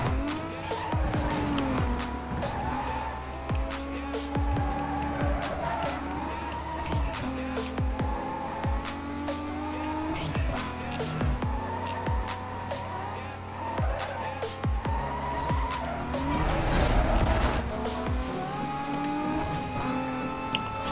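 A powerful race car in Need For Speed Most Wanted, skidding through a boss race: repeated tire squeals and engine revs over a continuous game-audio bed, fairly quiet overall.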